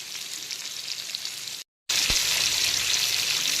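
Bagda prawns (chingri) shallow-frying in hot oil, giving a steady, bright, close sizzle that cuts out for a moment and returns just as loud.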